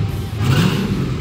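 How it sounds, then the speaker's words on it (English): A 1,000-horsepower all-aluminum engine in an old Plymouth revs with a deep, throaty rumble, its low drone swelling briefly mid-burst and staying loud and close throughout. "It's a nasty sounding, throaty thing. It just rumbles that entire car."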